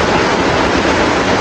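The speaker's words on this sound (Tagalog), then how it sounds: "Lakas ng ulan eh." Heavy rain hisses in a dense, steady wash, loud and close, with no voices over it.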